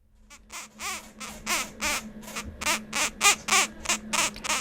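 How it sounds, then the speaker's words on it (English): A 4-day-old kākāpō chick being fed on Whenua Hou (Codfish Island) gives a rapid series of squeaky, wheezing chirps, about a dozen pulsing calls close up, rising and falling in a steady rhythm. "It's the sound of a 4-day-old Kākāpō chick being fed."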